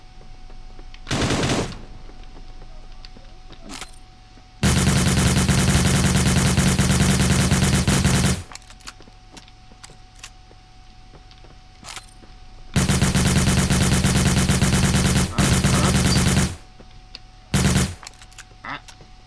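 Loud sustained bursts of machine-gun fire in the battle royale game Cyber Hunter, two long volleys several seconds each plus shorter bursts, with quieter pauses between.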